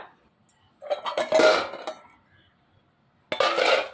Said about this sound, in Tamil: அடுப்பை நிறுத்தி அப்படியே மூடி வச்சிடலாம்